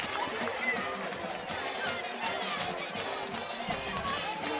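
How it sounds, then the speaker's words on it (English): Crowd noise at a high school football game, the Western Wayne Wildcats scoring a touchdown, with a steady dense roar of cheering and chatter held at an even level throughout, no single voice standing out. "that touchdown was scored, and I heard the crowd and the cowbell"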